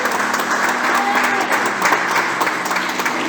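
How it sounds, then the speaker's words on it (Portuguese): A church congregation applauds during a worship service, filling the room with loud, sustained clapping that runs without a break. "Aplauda ao Senhor"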